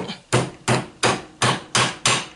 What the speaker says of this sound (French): Un coup de marteau.